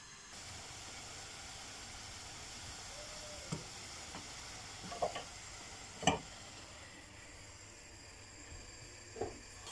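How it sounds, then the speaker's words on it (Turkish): A soft, steady sizzling hiss of milk heating in a pot, with a few light clinks and taps scattered throughout. "Güzel sütümüz kaynıyor gördüğünüz gibi."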